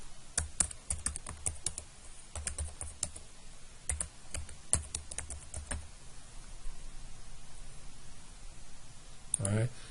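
Fingers type on a computer keyboard while entering spreadsheet data, producing quick, irregular bursts of close key clicks with brief pauses between them.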